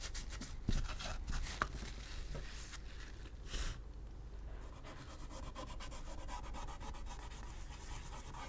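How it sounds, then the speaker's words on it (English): Microfiber cloth rubbing and catching on the metal pins of an NES console during cleaning, a steady faint scrubbing with a few sharper snags and bursts early on, close and quiet with no talking. "My microfiber cloth keeps getting caught on these pins."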